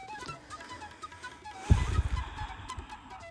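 Chickens cluck faintly in a quiet village, a soft scattered burst of low clucks rising briefly midway before fading, with little else around.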